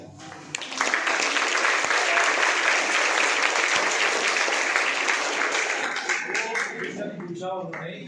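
An audience claps and cheers for a student during a motivational lecture, a dense, steady round of applause that swells quickly and holds for several seconds before thinning out toward the end.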